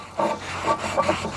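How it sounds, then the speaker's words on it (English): A Scotch-Brite pad scrubs across the lid of a Lodge 12-inch cast iron camp Dutch oven in quick back-and-forth strokes, close and rough over a low background hum. "Just give it a good buff with the Scotch-Brite here."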